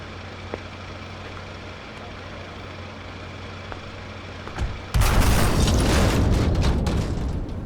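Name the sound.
shotgun fire in video game Yakuza Kiwami 2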